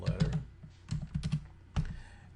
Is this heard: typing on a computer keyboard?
yes